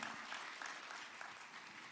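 An audience at a fifth grade school graduation claps for the school leadership, a short burst of dense, steady applause from many hands, evenly sustained with no talk over it.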